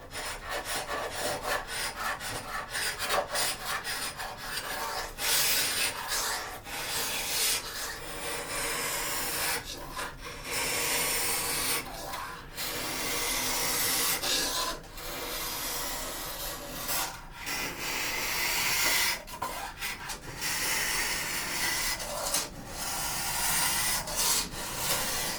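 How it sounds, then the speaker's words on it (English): A scraper strips damaged veneer off a 1940s Art Deco dresser in steady, repeated rasping strokes, close and fairly loud. Brief pauses separate the strokes. "It is so rare for a piece to scrape off this easily."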